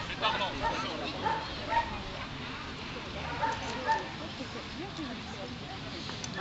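A gendarmerie detection dog searching for cannabis gives a few short yips and whimpers in a noisy setting, with people talking nearby.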